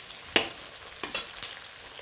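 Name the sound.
onions frying in pan for chicken kosha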